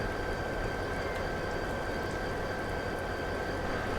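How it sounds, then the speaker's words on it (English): Train wagons rolling past in the Train Sim World video game, a steady, dense rumbling roar with a faint constant whine and no distinct clacks, continuous throughout. "The wagons are going past."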